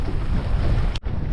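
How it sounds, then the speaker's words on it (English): Steady, rumbling wind buffets the microphone with a constant low roar, briefly cutting out near the end. "it's windy"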